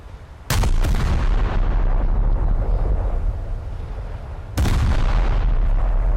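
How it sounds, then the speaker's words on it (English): Naval gunfire in War Thunder as a Brooklyn cruiser's guns hit an enemy ship: two loud, booming cannon blasts about four seconds apart, each followed by a long rumbling roll that fills the gap. "there's just something satisfying about getting good hits on the enemy ship with your gunnery"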